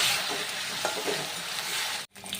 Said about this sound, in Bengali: তো আমার পেঁয়াজগুলো ভালো করে আমি ভেজে নিয়েছি